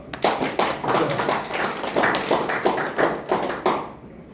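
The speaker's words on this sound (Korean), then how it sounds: "박수를 한번 주시면 고맙겠습니다" A lecture audience at a district chamber of commerce claps for several seconds in a dense, rhythmic patter of hands, close and lively, then stops abruptly.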